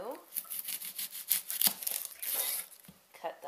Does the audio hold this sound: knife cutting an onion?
yes